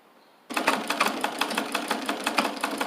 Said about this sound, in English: Well, I'm sewing it right now.